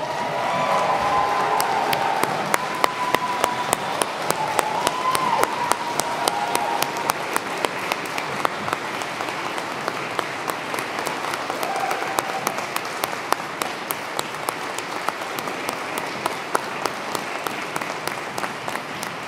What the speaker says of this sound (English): How about a big round of applause for all of our graduates?